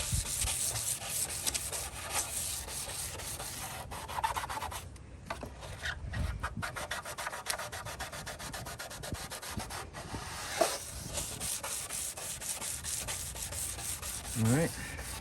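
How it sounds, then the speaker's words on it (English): Steady abrasive scuffing of a sail panel on a 1999 Cadillac Escalade, a continuous rasping rub with short pauses, close and moderately loud with no talk. "And then just scuff it up."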